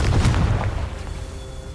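A Confringo fire spell blast in the video game Hogwarts Legacy: one loud, booming explosion with a deep low rumble, quickly decaying into a fading tail.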